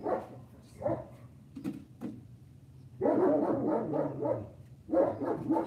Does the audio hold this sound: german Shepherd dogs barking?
yes